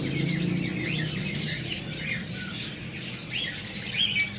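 Finches and other caged birds squawk and chirp continuously at an outdoor bird market, a dense busy chorus of calls heard at moderate distance.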